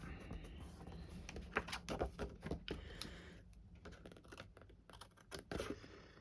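Scissors trim through card in a series of quiet, close, irregular crisp snips and clicks, some clustered and some spaced apart, with no talking.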